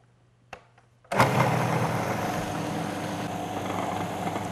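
A Powermill blender starts abruptly after a couple of faint clicks, then runs as a loud, steady motor whir while churning cream into butter.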